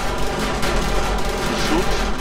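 Rapid gunfire crackles from zombies and police during a horde night in the Borderlands-style video game, a steady stream of dense shots under game ambience with a voice talking over it.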